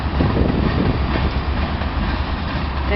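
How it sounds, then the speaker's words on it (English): Rail cars roll past close by in a loud, continuous rumble with rhythmic clickety-clack from the wheels over the track joints. "A train"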